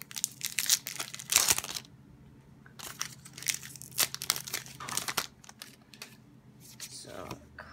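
Crinkly foil wrappers of Pokémon Sun & Moon booster packs crackle and tear in several close, uneven bursts, with pauses between as a voice talks under the rustling.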